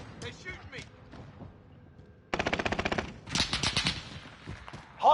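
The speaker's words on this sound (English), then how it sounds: "They're shooting me." Automatic gunfire in the Call of Duty Warzone battle royale, with a loud, rapid burst of shots after a quieter stretch, followed by another ragged volley and a sharp final crack, with game voices underneath.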